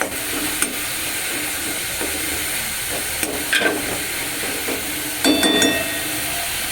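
A steady sizzle of onions frying, before boiled potato is added for vegetable chops, fills the background while a utensil scrapes and clinks against the pan in occasional stirring strokes.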